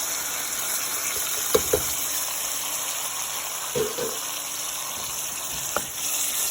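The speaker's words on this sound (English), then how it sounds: "now we're going to add our can of beans." Canned red beans slide and splash into a pot of bacon and red bean stew cooking on the stove. A steady wet gush runs under a few soft thuds and plops, close by and with no talk.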